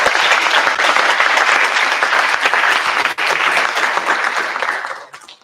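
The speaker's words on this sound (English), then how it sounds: "so let's give him a round of applause" A school board of education meeting audience gives a round of applause for a student representative, loud continuous clapping that holds steady and then fades out at the end.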